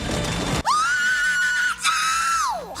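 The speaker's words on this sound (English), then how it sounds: "did the sound effects guys really think we wouldn't notice that scream?" A stock film scream from the movie Freejack: a single loud, sustained high-pitched cry that holds steady, briefly breaks, then resumes and trails off, heard alone over a noisy action-scene backdrop.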